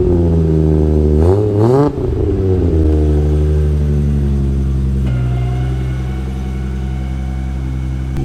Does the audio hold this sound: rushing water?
no